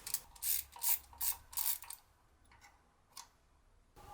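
A screw is unscrewed on the thermostat housing of a Peugeot 406, giving a quick series of close ratcheting clicks that stop halfway, followed by a few faint isolated clicks, with no talking.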